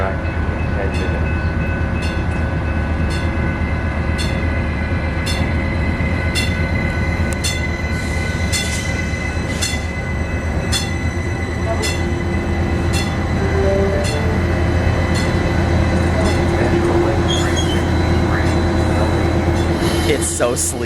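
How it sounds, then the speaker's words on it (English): Arrow passenger train sitting at the station with a steady loud rail rumble and hum throughout, regular clicking ticks, and a brief squeal near the end, with people talking nearby. "first impressions of the Aero train. We just got on."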